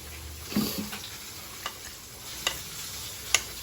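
Small fish being mixed by hand with white oil, onion and tomato in a pan, giving a few soft close squelches and light clicks of ingredients against the pan, with no voices.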